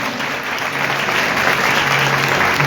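Worshippers at a live church service in Gujranwala clap loudly together, a full, sustained burst of applause that holds steady and swells slightly toward the end.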